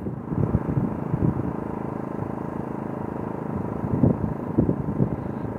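Low rumble of truck traffic outdoors, steady and fairly close, with a running portable generator nearby, the engine drone swelling slightly at moments.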